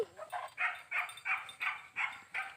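A dog barks repeatedly in a steady rhythm, about seven sharp barks close by, with no talking over them.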